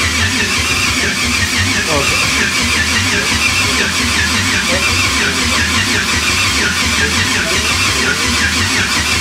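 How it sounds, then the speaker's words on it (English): Freshly rebuilt nitrous Chevy Nova engine turning over on the starter, a dense, loud, continuous churning rumble with a fast rhythmic pulse, with people talking faintly in the background. "And hit the starter for a little bit."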